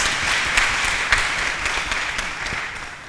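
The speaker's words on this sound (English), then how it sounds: "So can we give them a round of applause?" Audience applause for schoolchildren in uniform at a literary exchange event, a steady wash of clapping from a sizeable crowd at moderate distance, sustained and even throughout.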